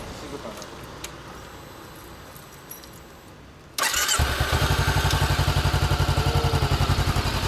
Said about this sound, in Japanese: エンジン音聞かせてくれる？